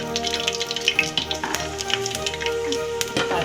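Cloves, cardamom and black pepper fry in hot oil for a green chicken gravy, giving a loud, close, continuous sizzle dotted with sharp crackles and pops.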